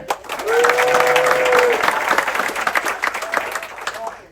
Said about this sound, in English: In your applause, Iskandar